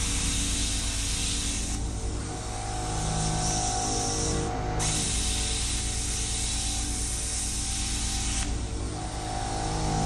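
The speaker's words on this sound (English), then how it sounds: "The other thing I'm working with is a small air compressor." A small air compressor in a workshop gives a steady, loud broadband hiss that runs almost the whole time, briefly dropping out and changing pitch as the airflow shifts, with no talking over it.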